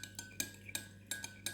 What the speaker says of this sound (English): I do like to stir it.